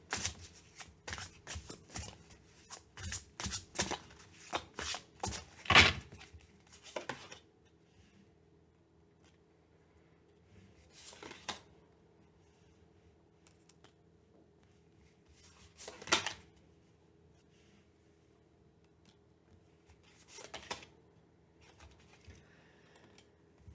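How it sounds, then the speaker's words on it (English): A deck of reading cards with green backs is shuffled by hand in quiet indoor surroundings. Several quick riffling bursts come close together, followed by three more isolated bursts spaced a few seconds apart. "I'm going to shuffle this other deck that has green on the bottom."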